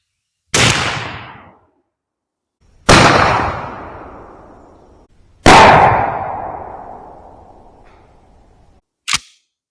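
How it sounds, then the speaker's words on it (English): Three loud 12 gauge shotgun blasts firing Noble Sport No. 4 buckshot from 2.75-inch Italian-made shells, spaced a few seconds apart with long echoing decays outdoors, followed by a short sharp click or clack. "Here's our 3rd shot. Let's shoot this thing so we can go check out this pattern."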